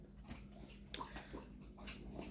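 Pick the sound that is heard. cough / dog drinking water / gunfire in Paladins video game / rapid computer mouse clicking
dog drinking water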